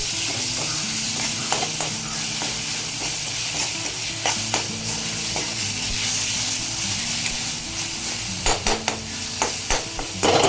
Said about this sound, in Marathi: मिरचीचा मसाला घातल्यानंतर हे आपण छानपैकी ते भाजून घेऊया।